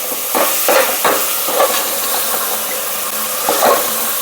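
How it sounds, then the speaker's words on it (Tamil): Tomatoes with turmeric sauté in a pan under a loud, constant sizzle and hiss, broken by repeated scraping strokes of a spoon stirring through the mixture. "அதையும் போட்டு கொஞ்சம் மஞ்சத்தூளை போட்டு வதக்கினோம்னா அந்த தக்காளியெல்லாம் நல்லா குலைவாக சீக்கிரமாக வெந்துடும்"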